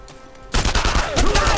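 Rapid bursts of gunfire erupt in the World War II shooter Enemy Front, a loud, dense fusillade of close shots starting abruptly after a quiet moment and continuing to the end.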